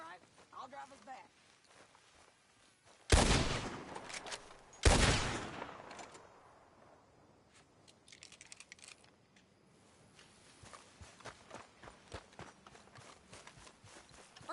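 Two sharp, loud gunshots ring out a couple of seconds apart in Red Dead Redemption 2, set against quieter clattering, hoofbeat-like clicks and intermittent rustling.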